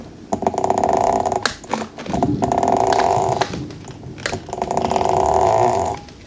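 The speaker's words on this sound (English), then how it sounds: "It is really making a lot of growling, grinding noise when I go here." The rear hub of a Meepo electric skateboard with a broken truck grinds and growls while riding, loud close whirring surges rising and falling in several long bursts with brief gaps.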